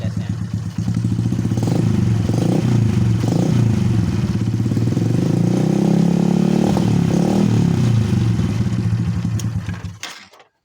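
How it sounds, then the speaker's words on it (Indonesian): A Honda Absolute Revo motorcycle engine starts up and revs loudly close by, with a steady rumbling idle that swells in a few throttle blips before cutting off abruptly. "kita hidupkan mesin, kita pasang ground sini. Nah, kita lihat, kita gas ya, kita buka gasnya."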